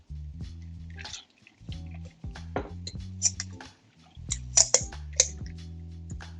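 A cocktail is poured into a tall Collins glass, with liquid splashing and gurgling in short bursts, glass clinks and ice rattles close up, fairly loud and alone.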